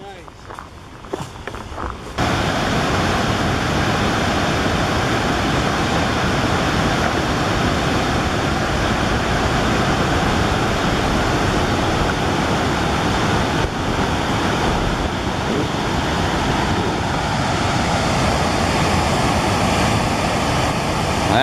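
Heavy, steady roar of water rushing through open dam floodgates on the Pine River Flowage, loud and continuous, with a brief quieter moment at the start.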